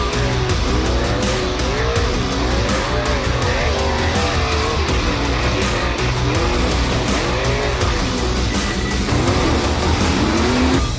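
Unlimited-class off-road race cars roar past at a Queensland off-road racing championship round, engines revving and rising and falling in pitch continuously, loud and close, with no voices.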